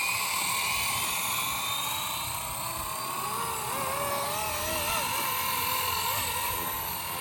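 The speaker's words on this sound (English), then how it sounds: "So let's go ahead and fly this helicopter." A Blade 230S radio-controlled helicopter flies nearby, its rotor and motor giving a constant high, buzzing whine. The pitch shifts slightly as it moves, and the sound stays steady and fairly loud throughout.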